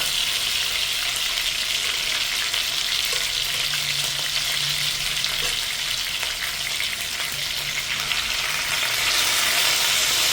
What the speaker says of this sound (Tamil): எண்ணெய் நல்லா காஞ்ச பிறகு நம்ம சிக்கனை ஃப்ரை பண்ணிக்கலாம்